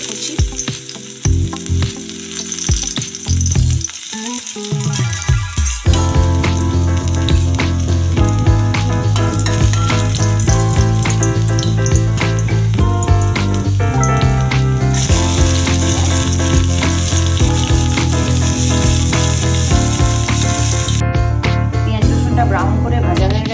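Chopped garlic fries in white oil in a wok for palak paneer, giving a steady, loud sizzle that continues for the whole stretch, partly under music.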